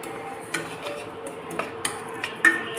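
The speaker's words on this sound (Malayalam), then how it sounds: "ഇനി ഇത് നന്നായി ഒന്ന് വറുത്ത് കൊടുക്കാം." Green gram flour roasting in a pan over a low flame for Kerala gram laddu, with scattered scraping and clinking of a spoon against the pan over a soft steady background.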